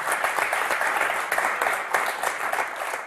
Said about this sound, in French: Applaudissements pour Audrey et Magali.